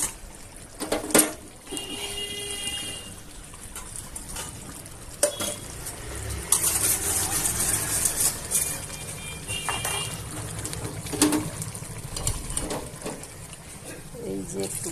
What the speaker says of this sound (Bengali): এই যে একটু গরম জল ঢেলে দিলাম, মশলা ধোয়া জলটা আর কি দিয়ে দেব আমি।